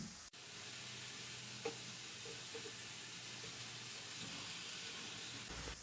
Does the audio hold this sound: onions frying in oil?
yes